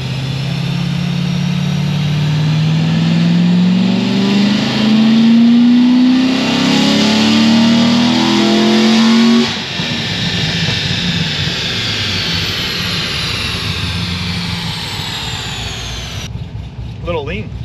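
A Stage 4 C6 Corvette Z06 V8 roaring up through the revs on a dyno, pitch climbing steadily for about nine seconds before easing off into a rumbling idle, loud and close, with voices talking over it.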